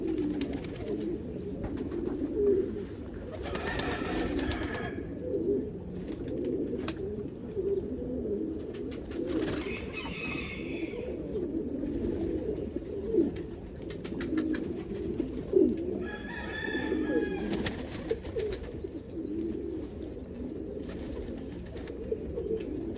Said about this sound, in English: So this bird over here, it's an almond. It's a cross between an Indian fantail and a homer.